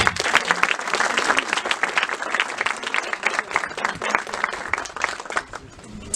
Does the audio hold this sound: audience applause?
yes